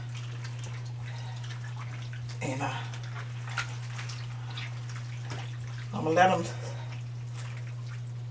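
Fresh collard greens are turned over by hand in a soda water bath, giving two soft bursts of splashing and dripping water under a low steady hum while someone talks.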